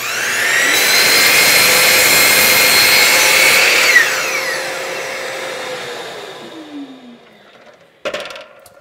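A power saw cuts off the wet end of a scrap wooden board in a workshop: a loud, sustained whine through the cut that winds down slowly, then a sharp clatter near the end.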